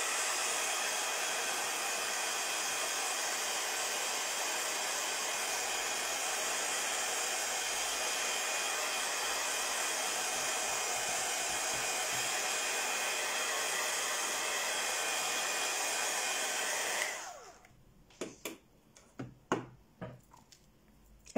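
A hair dryer blows steadily and loudly on a papercraft base for about seventeen seconds, a dense even whoosh that cuts off abruptly, followed by a few soft handling taps and rustles.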